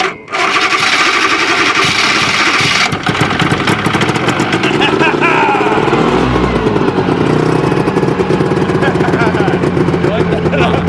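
Vintage 50-year-old twin-track snowmobile engine running on choke, a loud, continuous buzzing roar up close that shifts pitch as it warms up, with people talking over it.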